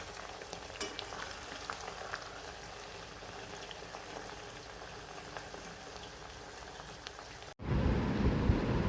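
Homemade herbal hair oil simmers over a low flame in a pan, making a soft, steady bubbling crackle with faint pops throughout, then an abrupt cut to a louder, rumbling bubbling.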